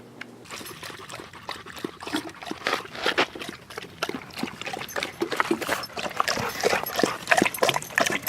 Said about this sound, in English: I guess I can show you the doggies pretty soon